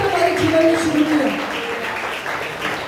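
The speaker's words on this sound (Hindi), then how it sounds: "हम जोरदार कभी ताली बजा के बजाना चाहिए" A church congregation claps together in a steady burst of applause, loud and close, with a voice speaking over the clapping at the start.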